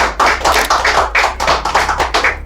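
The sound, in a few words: audience clapping for certificate recipient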